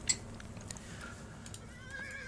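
A horse whinnies in Age of Empires II, a brief high neigh over a low steady background rumble, fairly faint and distant.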